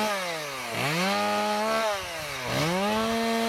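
A chainsaw revs up and down twice, its engine whine rising and bogging as it bites into birch wood in a snowy forest, fairly close and loud.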